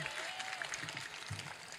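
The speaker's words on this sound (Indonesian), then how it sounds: "tepuk tangan" Audience applause at a public gathering with local officials, as a woman police chief is introduced; steady dense clapping fills the short stretch, with a faint tone and murmur under it.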